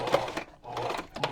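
A sewing machine stitches paper bag pockets for a junk journal in short bursts of fast, close, whirring needle chatter separated by a brief pause.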